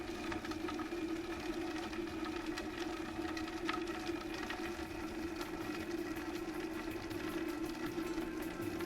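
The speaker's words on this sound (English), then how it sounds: "turn the machine on and drop the quartered onion in" Vitamix blender running at variable speed 3 and chopping a quartered onion, a steady droning motor hum with a faint rattling texture, continuous and even throughout, no talk.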